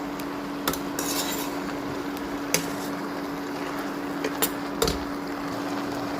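A spoon scraping and knocking in a pot as cooked beans are mixed into ash gourd olan, a Kerala curry; a few sharp metallic clinks stand out over a low steady hiss.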